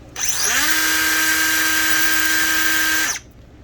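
A 3-inch cordless cut-off tool, a Milwaukee M12 or DeWalt 20V Max, spins up with a high, steady electric whine, runs evenly for about three seconds close by, then winds down.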